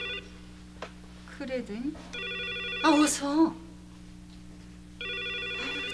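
An old-style telephone bell rings in repeated bursts in a Korean household drama, loud and close, broken up by brief spoken exchanges between the rings.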